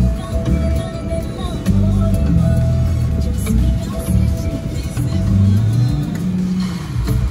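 Steady interior drone of a 2020 Range Rover Evoque on a short drive, low engine and road rumble with occasional surges, heard continuously at moderate level.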